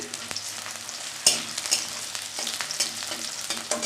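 Onion and chopped garlic sizzle in hot oil in a pan, a moderately loud crackling hiss broken by sharp spatula scrapes and stirring clicks, no talking.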